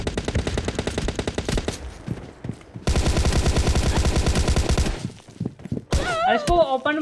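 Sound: gunfire in a video game

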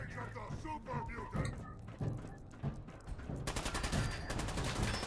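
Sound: gunfire from super mutants in the video game Fallout 4

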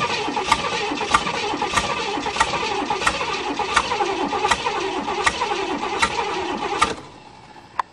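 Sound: old Chevy engine cranking, trying to start

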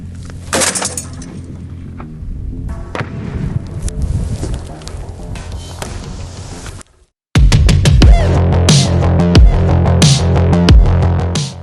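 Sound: automatic grenade launcher shot

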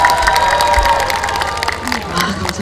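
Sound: audience applause and cheering at a concert

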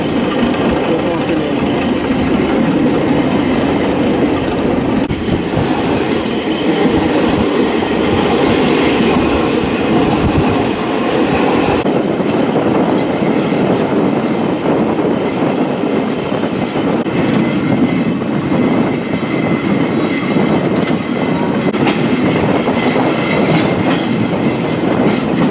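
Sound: train riding on rails

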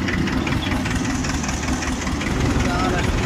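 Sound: HMT 2511 tractor engine idling

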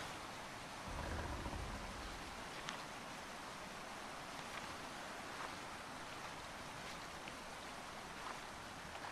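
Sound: waterfall water in A Quiet Place video game

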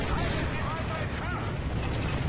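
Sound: small explosions in Call of Duty Modern Warfare 3 video game

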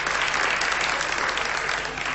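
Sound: audience applause

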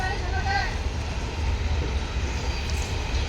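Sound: train passing

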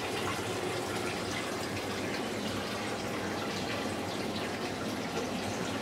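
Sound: 130 gallon reef aquarium tank filling with water

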